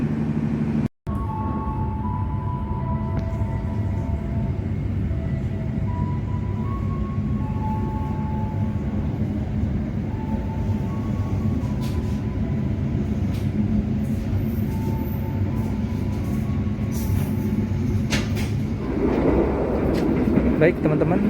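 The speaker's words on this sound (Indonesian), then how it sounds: "perjalanan saya teman-teman dengan kereta api Argo Muria tepat pada pukul 17:50 berhenti di perhentian ketiga di stasiun Tegal" Argo Muria express train halted at Tegal station, with a steady low rumble of idling rail equipment and faint tonal hums throughout, rising slightly in the final seconds; no clear talk.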